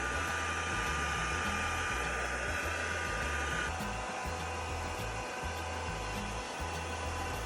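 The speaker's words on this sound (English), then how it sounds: "So that doesn't seem to respond that fantastically to the heat gun." Heat gun blowing steadily on a layer of Halo Paste, a continuous close, loud airy roar with a low motor hum, unbroken for the whole stretch with no talking.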